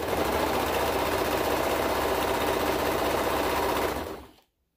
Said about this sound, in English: I'm just sewing in the circle here of the hood.